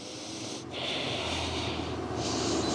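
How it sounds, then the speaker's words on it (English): Deep, slow breathing during a yoga backbend class: loud, airy breaths drawn in and pushed out close to the microphone, with no talking. "5 deep breaths here."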